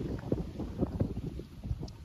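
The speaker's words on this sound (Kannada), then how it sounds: "ಎಷ್ಟ್ ಚಂದ ಗಾಳಿ ಬಿಸಾತೈತಿ" Wind blowing across a hilltop at Vaijnath temple, a steady rough rushing with low buffeting gusts against the microphone, close and constant with no one speaking.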